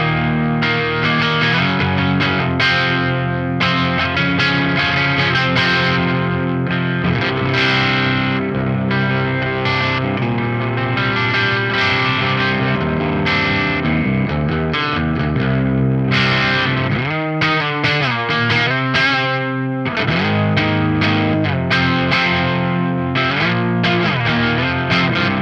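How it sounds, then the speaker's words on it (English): Electric guitar with a Seymour Duncan Black Winter pickup in full humbucker mode through the clean channel of a 5150 Iconic amp, played alone as a continuous riff with a slightly driven, hot edge and a brief choppy muted passage midway. "here's just the Black Winter in full humbucker mode on the clean channel of this 5150 Iconic"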